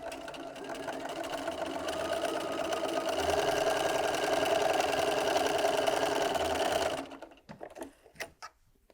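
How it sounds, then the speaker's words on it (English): A sewing machine running steadily for about seven seconds while stitching a quarter-inch seam on a friendship braid quilt block, close and loud, then stopping with a few small handling clicks. "I'm just going to sew to the end."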